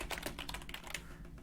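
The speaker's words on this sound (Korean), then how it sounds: "타이핑을 막 해볼게요." Rapid keystrokes on a computer keyboard clatter in a quick, uneven stream with no talking, fairly quiet against a low hum.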